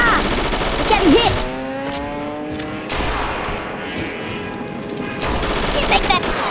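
Heavy rapid gunfire crackles in bursts in the Roblox Frontline WW2 D-Day battle game, loud and dense at the start and end, with a voice shouting over it.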